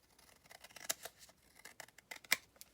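Scissors make a few small, crisp snips trimming the edge of a paper envelope mailer, spaced irregularly and heard up close in an otherwise quiet room.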